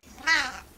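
A cat gives a single short, close meow, rising and falling in pitch, alone and brief with nothing else around it.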